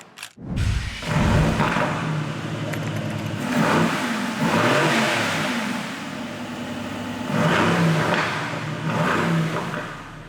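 A Mercedes-AMG GT R engine fires up with a sharp starter bark, then revs loudly in repeated surging swells over a rumbling idle, close and unaccompanied by talk.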